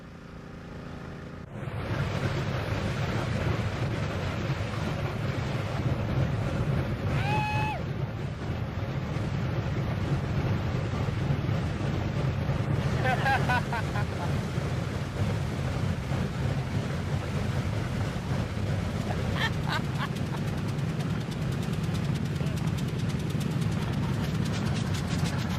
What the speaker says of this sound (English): the first engine is turned over.